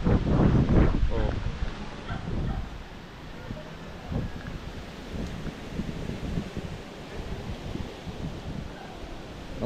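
Strong storm wind roars through trees near a beach, a loud gusty rush with a burst at the start, while people talk over it.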